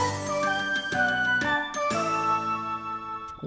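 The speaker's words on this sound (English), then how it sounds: "Is that a frickin' bell?" Hotel-bell-like dings from a capsule in Pikmin 3, several bright ringing strikes spaced a fraction of a second apart, each with a sustained metallic tail, clear and unaccompanied.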